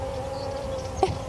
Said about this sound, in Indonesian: Ya biasanya suka banyak lebah kalau ada di bunga-bunga di taman.